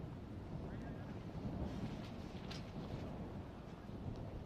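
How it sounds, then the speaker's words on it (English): Gusty wind buffeting a microphone at an outdoor T10 cricket ground at night, a steady low roar with small surges, loud and close throughout with no clear voices. "That's how windy it is right now."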